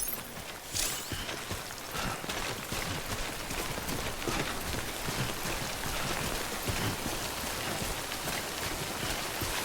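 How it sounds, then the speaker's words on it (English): Steady, dense rainfall from the timefall in the video game Death Stranding hisses and patters evenly throughout, a constant wash with no voices over it. "Don't stay out in the rain any longer than you have to."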